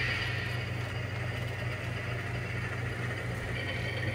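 A railroad locomotive idles while being put away, a steady low mechanical rumble that holds evenly throughout with no voices.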